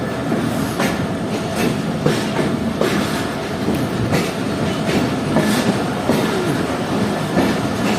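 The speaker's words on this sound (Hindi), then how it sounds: "रेस्ट्रिक्टेड स्पीड को फॉलो करते हुए ट्रेन स्किप कर रही है सम्मा सट्टा जंक्शन को" The Pak Business Express passenger train rolls at restricted speed through a junction station in Pakistan, with a loud steady roar and rhythmic clickety-clack of wheels over rail joints throughout.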